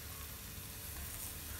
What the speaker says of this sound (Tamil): இந்த காய்கறி எல்லாம் நல்லா வதக்கி விடுங்க